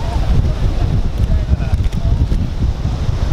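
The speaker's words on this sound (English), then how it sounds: "it's quite like windy, so I apologize if you can't hear what I'm saying" Strong wind buffeting the microphone outdoors in Vilanova, Spain, a constant low roaring rumble with gusts throughout.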